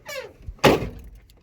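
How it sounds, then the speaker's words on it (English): Truck doors on a Duramax converted into a convertible, one heavy slam landing near and loud after a lighter earlier rattle, with no talking. "I wonder if these doors are going to shut right."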